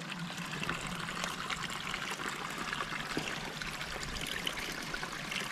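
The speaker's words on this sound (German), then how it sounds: "Jetzt habe ich hier noch eine schöne Quelle entdeckt." Water from a mountain spring along an alpine trail near the Königssee trickles and splashes steadily and close by, a continuous bright gurgle with no voices.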